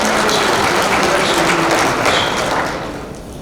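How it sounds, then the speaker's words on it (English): Audience at an awards banquet for a stock car racing series clapping loudly in a dense, sustained round of applause that fades slightly toward the end. "Let's give them a nice round of applause."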